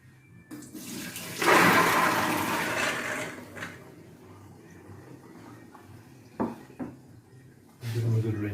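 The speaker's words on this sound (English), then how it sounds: "So we're going to pour those through a colander." Soaked carlin peas poured into a colander, a rushing splash of water and rattling peas building after a second and tapering over a few seconds, followed by light clinks and knocks of kitchenware.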